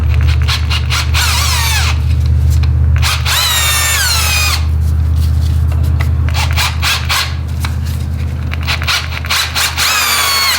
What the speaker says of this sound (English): Doesn't take a lot to drill them out.